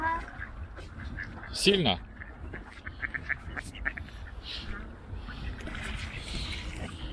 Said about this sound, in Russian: утки прям голодные, да?